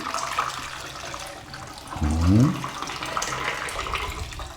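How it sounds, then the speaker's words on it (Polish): Water poured out of a developing tank while processing black-and-white negative film from a 1968 Praktica Super TL camera, a short gurgling splash at close range amid quiet room noise and a brief murmur. "teraz wylewam wodę"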